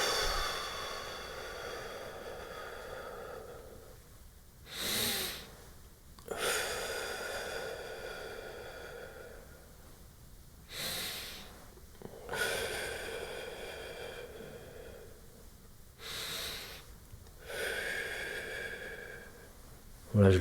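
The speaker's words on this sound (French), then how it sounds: "Là, j'inspire." Breathing in and blowing out during a shoulder mobility exercise, heard close as several slow, soft breath cycles, with sharper exhales at about 5, 11, 12.5, 16.5 and 20 seconds.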